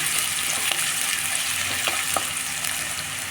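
Chopped onions frying in a pan for cabbage masala curry, giving a steady, close, dense sizzle throughout with a few faint stirring clicks and no talking.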